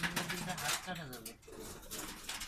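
Giribaz pigeons at a pigeon farm give soft, throaty coos in short repeated phrases, close by and fairly quiet, mixed with someone talking nearby.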